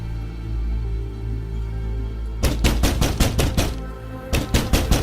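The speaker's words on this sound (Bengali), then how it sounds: "আমি দৌড়াইয়া কুটির কাছে যাই আর জোরে জোরে দরজা ধাক্কাইতে থাকি" Loud, rapid pounding on the door of a small hut on a Padma river sandbank in a Bengali horror cartoon, two bursts of repeated heavy thuds after a quiet droning start.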